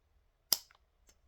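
One crisp snip of multitool scissors cutting through thin paracord, quiet and close, followed by a couple of faint clicks.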